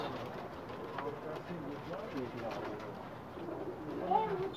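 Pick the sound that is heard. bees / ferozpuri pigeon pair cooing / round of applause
ferozpuri pigeon pair cooing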